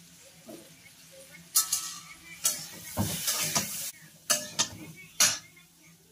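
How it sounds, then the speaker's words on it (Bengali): Turmeric-seasoned vegetables are stir-fried in a pan, with several sharp bursts of scraping and sizzling breaking up a quieter background. "তোমার সবজিটা ভালো করে কষানো হয়ে গেছে"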